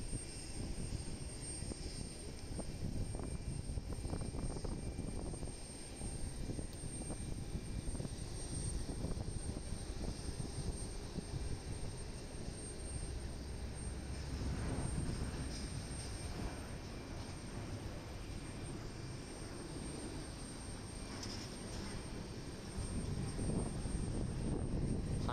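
A Boeing 737 airliner departs Itami Airport, Osaka International: a steady, distant jet roar holds for the whole stretch over the airport's outdoor background noise.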